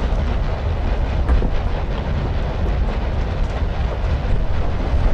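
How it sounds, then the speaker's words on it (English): A deep, steady earthquake rumble in the dungeon game Legend of Grimrock, loud and continuous throughout with a rattling, grinding texture and no pauses. "I guess it wasn't the cube causing the earthquake"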